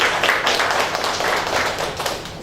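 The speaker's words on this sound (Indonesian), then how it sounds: "beri aplaus buat Anda semuanya." Steady crowd applause from an audience at a professional trainer's launch event, with dense clapping that stays loud and even for the whole stretch.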